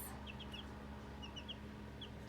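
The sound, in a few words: baby chicks clucking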